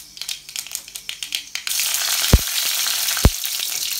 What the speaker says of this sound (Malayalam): എണ്ണ ശരിക്കും ചൂടായി കഴിഞ്ഞ് കഴിഞ്ഞാൽ കുറച്ച് കടുവ അതിനകത്തിട്ടേക്ക് പൊട്ടിക്കുക.